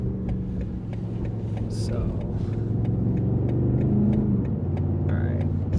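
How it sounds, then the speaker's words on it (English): A 2021 BMW M850i xDrive in Sport Plus pulls up an on-ramp, its engine a steady low rumble that grows slightly louder as it accelerates, heard from inside the car with someone talking over it. "we're about to hop on the on-ramp, do a little pull, switching over to Sport Plus"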